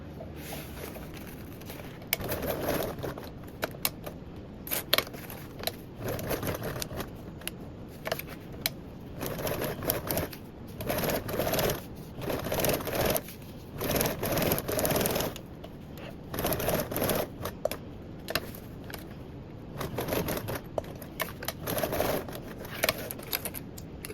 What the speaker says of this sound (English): we're going to top stitch around our box opening